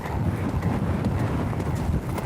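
A horse cantering during a fox hunting riding lesson, its hooves giving a continuous muffled drumming beat with wind noise over the microphone.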